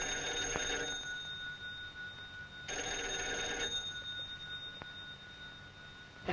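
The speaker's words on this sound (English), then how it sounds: "The phone is ringing." An old-fashioned telephone bell rings in two bursts, each lasting about a second with a clear metallic tone, separated by a pause, set in a room with a steady background hum.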